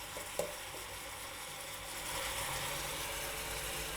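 Tandoori chicken cooks in a covered pan on a gas stove, giving a steady, moderate sizzle and hiss that swells slightly partway through, with one small clink near the start and no voices.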